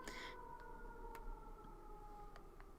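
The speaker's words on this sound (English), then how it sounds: "Glad that siren wasn't loud." A faint, steady siren tone drones in the background, with a few clicks and ticks over it.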